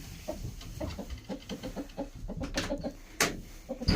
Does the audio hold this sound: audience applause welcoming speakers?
no